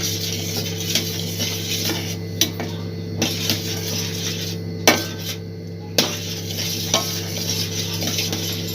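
Cardamom powder being stirred into milk in a pan for bread malai rolls: a spoon scrapes and clinks against the metal at a steady, unhurried pace over a low, continuous simmering hiss, close up and without voices.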